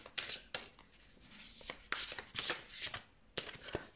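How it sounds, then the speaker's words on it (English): A standard-size Hay House oracle card deck is shuffled close by by hand, giving quick papery riffling bursts in an uneven rhythm with short pauses between them. "I just shuffle like this."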